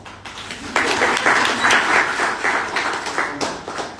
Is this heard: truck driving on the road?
no